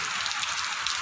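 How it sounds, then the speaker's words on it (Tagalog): Heavy rain pours down as a dense, steady hiss of countless drops, loud and unbroken from start to finish with no voices. "Lakas na ng ulan."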